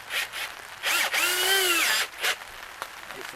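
A power drill driving screws into a greenhouse door, with several short whirring bursts and one longer pitch-bending run, close and loud, with no talk.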